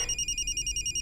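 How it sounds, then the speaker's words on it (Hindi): A telephone rings with a rapid, steady electronic trill, loud and close, with no other sounds. "ससुर जी का फोन है।"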